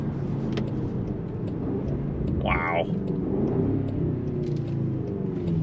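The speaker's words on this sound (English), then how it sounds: "Sound of that V8 sounds good." A deep, steady V8 engine rumble of a 2025 Range Rover Sport SV Edition Two SUV cruising along, with a brief exclamation from a voice partway through.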